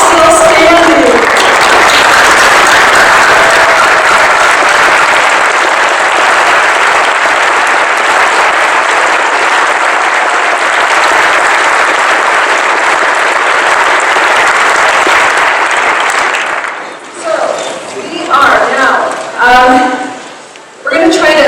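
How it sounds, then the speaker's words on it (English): An audience at a long-term recovery kickoff community meeting in Lyons stands and applauds loudly and steadily for about sixteen seconds. The clapping then fades as people begin talking. "So I wish you would all stand and give yourselves a round of applause"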